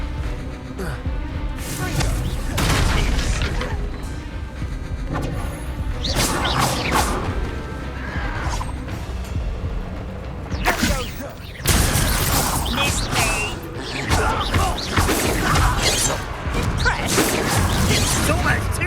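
Incendio and Expelliarmus spells in Hogwarts Legacy combat: a long run of loud whooshes, crashes and sharp impacts with a brief lull midway, then a dense burst of hits, with a voice speaking at moments.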